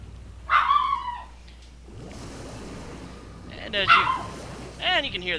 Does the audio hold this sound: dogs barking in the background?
yes